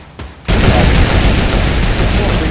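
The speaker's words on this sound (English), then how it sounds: "keep shooting right there, Alex." Dense, loud video game gunfire: rapid continuous shooting kicks in after a brief quieter moment and fills the rest of the short stretch without a break.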